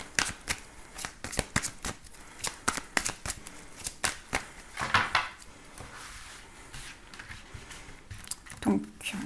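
Tarot cards are shuffled and drawn in a steady run of crisp flicks, riffles and soft slaps on a table, close and fairly quiet, with someone speaking French over parts of it.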